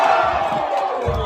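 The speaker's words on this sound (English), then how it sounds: "You hear the crowd? They going crazy." Football stadium crowd roaring and cheering in replayed game footage, a dense, loud wall of voices that holds steady and swells again near the end.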